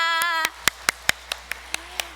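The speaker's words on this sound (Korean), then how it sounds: "이 기쁜 날을 맞이하게 해주신 우리 하나님께 먼저 감사의 박수" A church congregation claps in thanks during a 97th anniversary Sunday service, about ten sharp, evenly spaced claps following a brief sung or hummed tone at the start.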